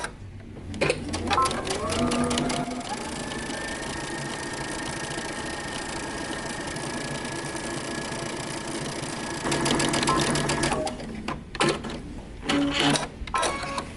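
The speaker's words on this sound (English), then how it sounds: "And then we're going to sew together our shoulder straps." A sewing machine stitches shoulder straps with a 3/8 inch seam allowance, a long steady run of whirring stitches framed by short stop-start bursts and clicks at either end.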